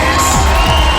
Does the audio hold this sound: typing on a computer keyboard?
no